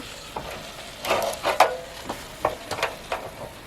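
Blue crabs frying in a hot pan as they are turned over, with a few scraping, clattering stirs and soft sizzle spread across the moment, close and moderately quiet.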